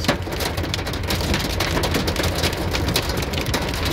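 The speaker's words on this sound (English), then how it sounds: "Seriously, this is just baby hail." Small hail pelts a car during a hailstorm, a loud dense continuous rattle of tiny stones striking the surfaces, with sharp ticks standing out from the steady roar.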